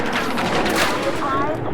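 Rapid automatic gunfire in the video game Battlefield 6, a dense continuous burst of loud shots with crackling echoes, filling the whole moment.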